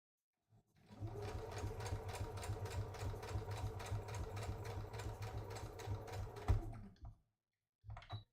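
A sewing machine backstitches a quarter-inch seam on a drawstring project bag, humming in one steady close run of about six seconds before stopping, followed by a short restart.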